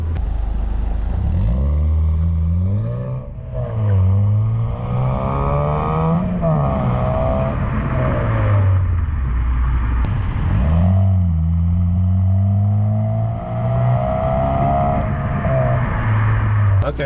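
Modded Honda Civic Si with a manual gearbox, heard from inside the cabin as its engine revs under light throttle in repeated rising and falling pulls, with people talking over the loud engine drone.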